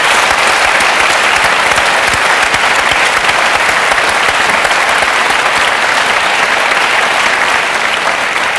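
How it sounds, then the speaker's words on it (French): Loud, sustained applause from a large audience, dense and even throughout with no break. "Je crois que vous pouvez l'applaudir."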